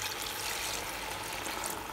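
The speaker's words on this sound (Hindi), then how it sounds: "इसमें थोड़ा हम पानी डाल देते हैं लेके।" Water poured steadily into a spice masala for a curry, a continuous close splashing pour that lasts without a break and carries no voices.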